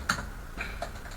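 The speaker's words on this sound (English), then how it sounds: "Not good at typing, but you can try." Light typing on a computer keyboard while writing C# code: a few scattered, soft key clicks over a quiet room background, unhurried and irregular.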